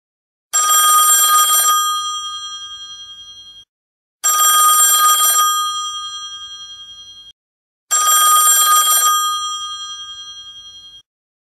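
Telephone ringing in The Sims 3 game, three identical bright electronic rings spaced evenly apart, each a short burst that fades out, heard alone without talk.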